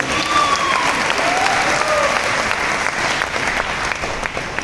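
A seated audience at a Vestige business gathering breaks into dense, loud applause that holds steady throughout, with a faint whistle-like tone briefly rising above the clapping.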